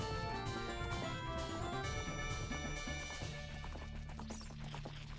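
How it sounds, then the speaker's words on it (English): Rapid clip-clop of horse hooves galloping under music in Zelda: Ocarina of Time, with steady rhythmic thuds and a busy musical background throughout. "Why is this horse running into the wall?"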